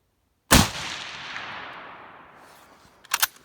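A single sharp rifle shot from an M1917 Enfield or a Mosin Nagant cracks out close and loud, then rolls away in a long outdoor echo, followed by faint metallic clicks.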